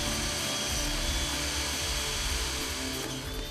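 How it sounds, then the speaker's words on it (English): A power drill with a 3 mm bit bores through the vertical join between a shower door and its in-line panel, giving a steady, loud, continuous whine with no talking. "drill using the 3 mm drill on the 4 marked holes down the vertical join of the door and inline panel"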